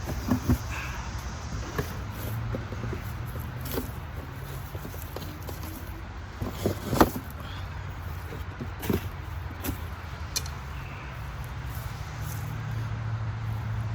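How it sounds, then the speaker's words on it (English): Road traffic passes outdoors near someone making a groundhog bowstring, a steady low rumble of vehicles with scattered knocks and clatters, moderately loud and continuous. "Sorry about all the noise from the traffic."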